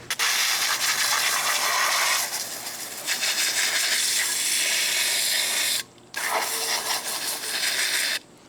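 A water sprayer blasts a coating off the tracks of a Lymow One robotic mower in a loud, steady hiss that runs about six seconds, cuts out briefly, then resumes for roughly two more seconds.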